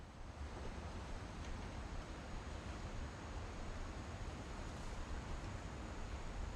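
Ocean waves and surf in What Remains of Edith Finch, where 40-foot waves strike off the coast of Washington: a steady, full wash of rumbling water and wind-like hiss. The sound holds at an even level throughout, with no voices.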